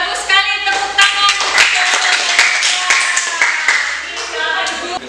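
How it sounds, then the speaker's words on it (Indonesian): A class claps hands together in a dance lesson, a dense run of sharp overlapping claps lasting several seconds, close and fairly loud, with tonal music or chatter underneath. "Tepuk tangan."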